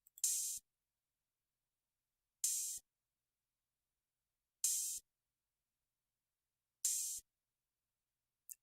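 Open hi-hat sample in FL Studio for a hard piano trap beat, struck four times alone with even spacing, each a bright, hissy, sizzling burst lasting about a third of a second before cutting off, separated by silence.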